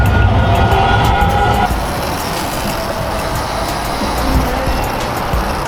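Metro train ride with steady broadband rumble and rail noise throughout, a brighter hum in the first couple of seconds, then continuous rolling clatter at a constant level.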